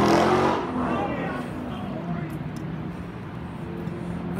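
A car drives past outside a store, a broad engine and tire rush that is loud at first and then fades as it moves away, leaving steady background noise.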